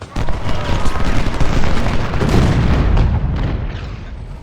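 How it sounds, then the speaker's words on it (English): Artillery fire in the Civil War strategy game Ultimate General, a rapid series of deep booming cannon shots and crackling volleys rolling together, loud and sustained with overlapping blasts. "my artillery is going to have some fun tearing them apart"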